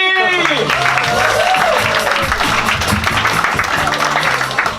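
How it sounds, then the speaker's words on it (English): Audience applause at a comedy club in Shanghai welcoming a comedian to the stage, dense and sustained clapping from a crowd with a voice talking over it at the start and tonal music underneath. "keep this applause going tonight"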